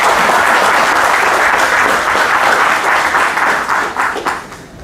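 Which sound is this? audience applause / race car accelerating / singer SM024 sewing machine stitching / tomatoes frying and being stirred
audience applause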